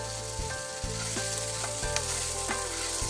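Fried green chillies with salt frying in a pan give a close, continuous sizzle with a few stirring scrapes, steady and fairly loud with no talking.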